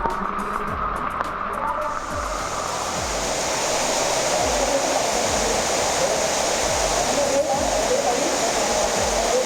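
Steady, dense rush of falling rainwater roars throughout, a waterfall close by at Aasava Fort near Boisar, Palghar, with low rhythmic thumps beneath and faint voices at the start.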